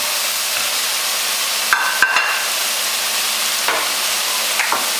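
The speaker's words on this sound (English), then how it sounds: "and then I'm going to add the whole carrots." Whole carrots go into a pan of sizzling shallots and garlic: a steady, close fry hiss carries a few sharp clatters and knocks as they drop in and get stirred, with no talk.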